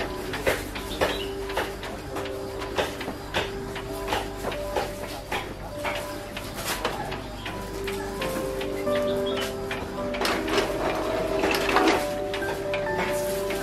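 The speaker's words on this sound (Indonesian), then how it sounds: "sekarang ketiga printer sudah mulai bekerja" Three Epson L-series inkjet printers, an L565 and two L1110s, printing invitations together, giving a steady run of mechanical clicks, ticks and whirring feed noise that builds and thickens toward the end.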